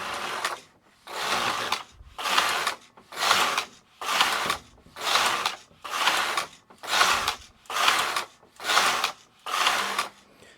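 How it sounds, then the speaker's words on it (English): A domestic knitting machine with weights and a cast-on comb hung knits a few rows, the carriage sliding across the needle bed in ten steady back-and-forth swooshing passes with brief pauses between, clear and close with no talking. "what I'm going to do is just knit a few rows"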